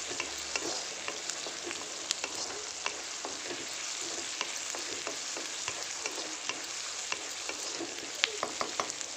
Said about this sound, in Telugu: అది మంచిగా వేగాలి ఫ్రెండ్స్, కొంచెం లైట్గా బ్రౌనిష్ కలర్లోకి రావాలి